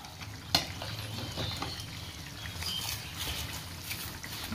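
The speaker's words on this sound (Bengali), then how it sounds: "তো তার জন্য হচ্ছে মাটনের সাথে একটুখানি পরোটা ভেজে দিচ্ছি বাবা আর ছেলেকে।" A paratha fries in a pan alongside mutton, with a soft, fairly faint continuous sizzle, one sharp clink near the start and light stirring textures throughout.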